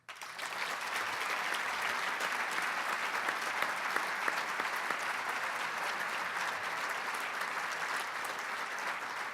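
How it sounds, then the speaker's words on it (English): Sustained audience applause fills a morning civic breakfast event honouring Doug Hennis, a dense, steady wash of many hands clapping at even loudness throughout with no talk over it. "join me in a cheerful round of applause for Doug Hennis"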